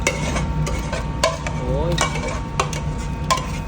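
A spoon scrapes and clinks against a cooking pot as masoor dal with chicken is stirred, repeated close knocks over a steady low sizzle, with a voice faintly heard in between.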